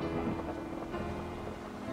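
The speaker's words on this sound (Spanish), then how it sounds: "Pero, ¿qué es toda esta lluvia?" Steady, dense rain falls without a break, a loud, even wash of noise with no voices over it.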